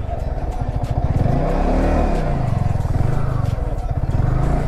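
A Yamaha R15M motorcycle with traction control switched off revs hard and close, its engine rising and falling in a loud, continuous pulsing drone with voices faintly beneath.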